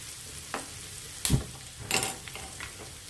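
Ginger sizzling in a pan on a gas stove, soft frying hiss with a few sharp stirring scrapes and clinks, close and quiet.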